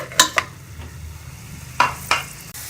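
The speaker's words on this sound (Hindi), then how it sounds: "कढ़ाई में मैंने 1 चम्मच घी का डाला। इसके अंदर मैं ये प्याज डाल दूंगी और इसको हम हल्का सा ब्राउन कर लेंगे।" Sliced onion in a spoonful of ghee in a kadhai, with a soft sizzle and a few sharp stirring clinks against the pan, close by and without talk.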